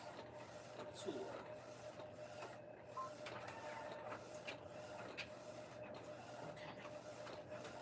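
An embroidery machine stitches out a design, giving a faint, steady mechanical whir with regular light ticks repeating throughout in a quiet room.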